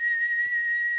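A shrill, steady whistle made by a person holds one high piercing pitch for about a second, loud and close with nothing else around it.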